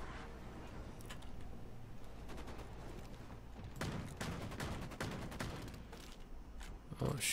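Gunfire in the video game Vampire: The Masquerade - Bloodhunt during a team deathmatch, rapid bursts of shots crackling at a distance, fairly faint, with sharper louder reports near the end.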